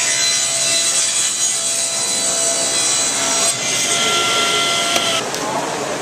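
A table saw ripping a wooden board along its edge, one continuous loud buzzing whine with the blade biting steadily through the wood from start to finish, no pauses.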